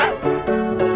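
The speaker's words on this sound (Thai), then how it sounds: "ทำการเห่าต้อนรับกัน" Dogs bark and yelp in greeting as a dog arrives after swimming over to play with a neighbouring household's dog; a short, close burst of harmonic barking fills about a second.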